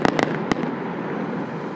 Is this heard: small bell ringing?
no